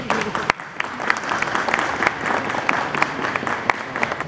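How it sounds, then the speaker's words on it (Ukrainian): Applause from an audience gathered at the opening of a new bus station, with scattered claps and crowd noise going steadily at moderate level, with a couple of sharper claps standing out. "Прошу оплески."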